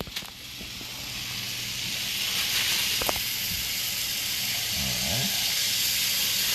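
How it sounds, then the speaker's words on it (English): Bacon sizzles in a hot pan on a stovetop with a steady, dense crackling hiss that swells slightly, broken by a few clinks and faint handling noises. "Love the sizzle."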